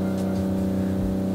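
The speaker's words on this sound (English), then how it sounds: "At 6 p.m. I always have some crazy drilling going on." Construction drilling outside a home in the early evening gives off a steady mechanical drone with a low humming pitch, continuous and moderately loud, with no talking over it.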